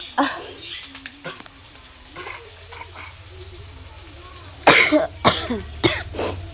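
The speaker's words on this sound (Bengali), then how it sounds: "মা বাইরে বসে বসে খেলো, ওখানে কাশি হবে।" Several close, loud coughs burst out in the second half after a quieter stretch with faint voices and small kitchen noises, coughing set off by pungent spice fumes in a home kitchen.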